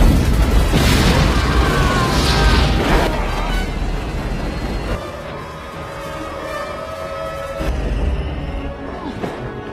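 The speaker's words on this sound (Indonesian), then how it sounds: "satu tank pun menembakkan meriam" A tank cannon fires in a war film scene, with heavy booming blasts and rumbling explosions early on, then fading into a lower, tense background.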